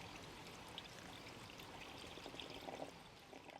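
Antifreeze poured into a Jeep 2.5L four-cylinder engine after a cylinder head replacement, a faint steady trickling stream of liquid with a few small splashes near the end.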